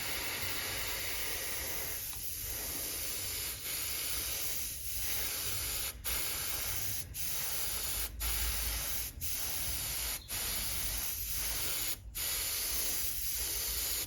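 An airbrush with a 0.45 needle nozzle at 20 psi sprays acrylic paint in a close, steady hiss, then breaks into a regular series of short bursts separated by brief pauses.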